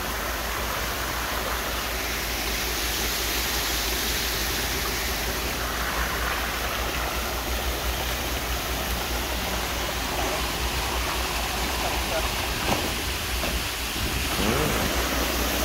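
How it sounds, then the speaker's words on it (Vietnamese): Heavy rain pours over a site where sand is pumped to fill a small house's foundation, a dense, constant hiss lasting throughout at moderate loudness, with no clear speech. "Mưa lớn rồi."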